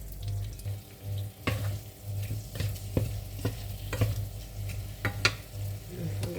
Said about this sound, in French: vous laissez griller un peu le riz